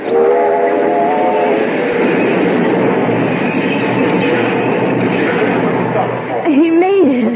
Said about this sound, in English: Caleb, stop the train.